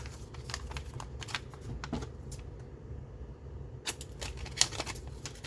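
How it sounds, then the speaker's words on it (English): Scissors cutting the top flap of a paper lapbook panel at a table, a string of quiet crisp snips and paper rustles over a low room hum, fairly close, with no talking. "And then we're going to cut the top flap."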